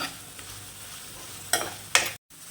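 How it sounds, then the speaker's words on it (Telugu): Potatoes frying with turmeric and salt being stirred, giving a faint low sizzle with two short scraping stirs near the end before a brief cutoff. "తర్వాత కలిపేసుకోవాలండి బాగా, పసుపు సాల్ట్ మిక్స్ కావాలి బాగా."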